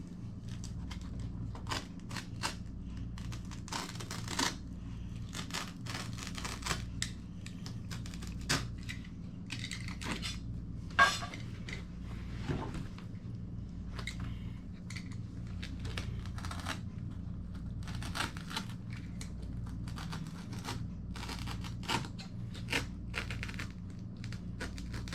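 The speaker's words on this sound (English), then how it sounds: "Now we'll cut the carpet." Carpet being cut during a laminate floor installation, a faint series of scratchy, irregular slicing and rasping strokes that continue steadily, close by, with no talking.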